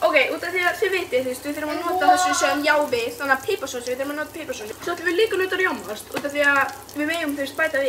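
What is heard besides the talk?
sausages frying in oil in a pan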